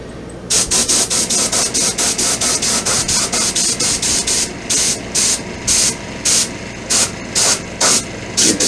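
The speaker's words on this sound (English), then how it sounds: "And the airbrush, just gonna go over everywhere." Airbrush spraying metallic gold paint over a rainbow trout taxidermy mount, a steady hissing spray pulsed in quick regular bursts, close and loud, with no talking.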